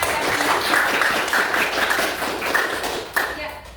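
Classmates in a ninth-grade civics lesson at a junior high school clap for a student, a dense burst of hand claps from a nearby group that fills the room, with voices mixed in.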